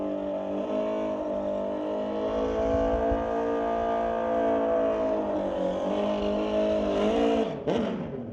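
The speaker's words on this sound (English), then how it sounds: "we'll roll into motorcycle proper with Paul Serdar running the Gixxer MAS Cycle, a 2005 Suzuki GSXR" A 2005 Suzuki GSX-R and a 2012 Kawasaki sit at a drag strip during a street-legal night event, engines droning steadily before a sharp rising rev near the end, heard without talk.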